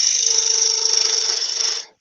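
A wood turning gouge cuts a piece of wooden fruit spinning on a lathe, giving a loud, steady high-pitched whine and hiss for about two seconds before it stops abruptly.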